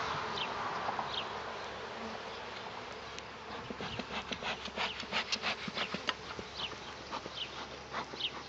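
Honey bees swarm around an open beehive, their dense buzzing close and continuous, with individual bees zipping past the ear in quick loud passes and a soft rustle of handling underneath.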